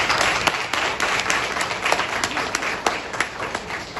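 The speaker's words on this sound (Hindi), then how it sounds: "क्या हम ताली बजा सकते हैं?" A church congregation at a Sunday service claps together in sustained, dense applause, many hands patting steadily for several seconds, fairly close and full throughout.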